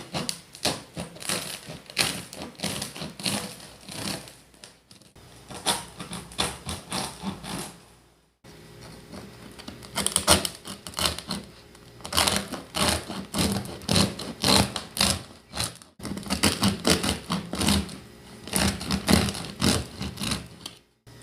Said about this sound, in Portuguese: Chegou a hora de cortar o pão